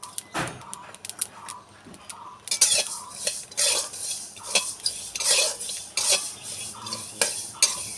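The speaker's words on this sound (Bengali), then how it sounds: "কালো জিরাটা অবরত নাড়ে ছেড়ে ভাজতে হবে" Black cumin seeds dry-roasting in a pan are stirred steadily with a utensil, giving rhythmic scraping and light rattling strokes close up, with a faint sizzle beneath and no talking.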